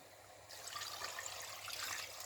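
Water pours steadily into a cooking pot for fisherman soup, a continuous close splashing rush that starts abruptly and keeps going.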